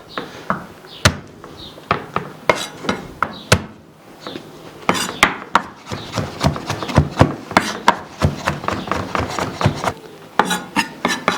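Steady knife chopping of garlic and peppers on a cutting board, quick repeated taps in uneven bursts, fairly close, with no talking.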